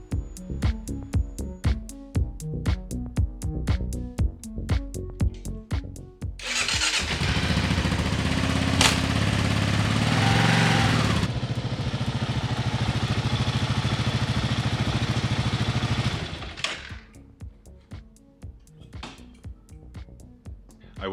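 A Kawasaki KLR 650 motorcycle engine starts up after a series of rapid ticking clicks, then runs loud and close with a steady rumble for roughly ten seconds before shutting off, leaving more ticking.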